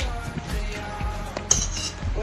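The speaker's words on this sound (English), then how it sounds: "So take all the ingredients to the bowl, then stir gently." Utensils clink and scrape against a bowl while salad ingredients are stirred gently, a soft continuous rustle with a few light clinks, close by and moderately quiet.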